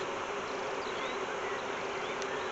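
Dense, steady buzzing of honey bees in an open hive during an inspection, close and continuous, with a few individual bees whining past.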